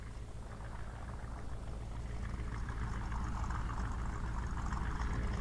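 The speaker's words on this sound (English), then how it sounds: "It's actually what my Camaro sounds like." A car engine from the 1999 game Driver holds a steady, loud rumbling drone that swells slightly over a few seconds, with no talk over it.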